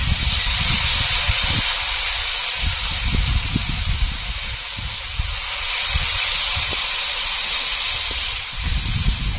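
Chili paste and its water sizzle and hiss loudly in a hot pan, a broad steady steaming roar with low bubbling bursts underneath, easing slightly midway before building again; no talking.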